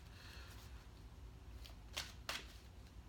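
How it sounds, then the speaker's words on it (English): Tarot cards are shuffled by hand, with a few quiet, crisp riffling bursts close by against a low background hum. "I just shuffled the freaking cards"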